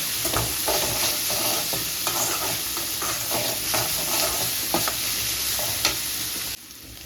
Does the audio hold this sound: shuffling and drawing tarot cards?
no